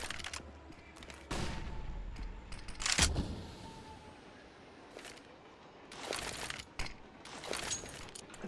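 Gunfire in a tactical shooter match on the Train map comes in scattered bursts and single sharp cracks, moderately loud and spread across the clip with quieter gaps between volleys.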